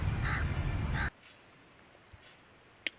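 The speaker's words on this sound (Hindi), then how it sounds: "CROW, क्रो, इसे हिंदी में कौवा कहते हैं।" A crow caws loudly in a single harsh burst lasting about a second, followed by near silence with a couple of faint ticks.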